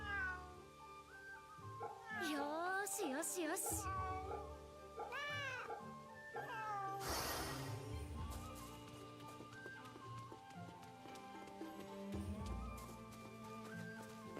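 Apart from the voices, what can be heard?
cat meowing in video game Fate/Samurai Remnant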